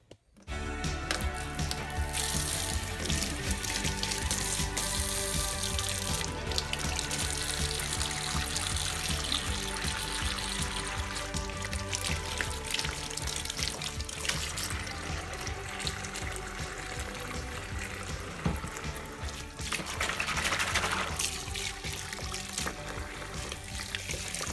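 Water runs steadily into a basin for soaking raw sheep fleece, a continuous close-up rush and trickle with slight splashing, going on without pause and with no talking.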